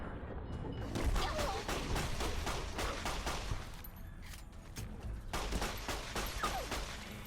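Rapid gunfire fills a Fallout: New Vegas fight against Night Stalkers, a dense string of loud, closely spaced shots that keeps going, pauses briefly, then resumes.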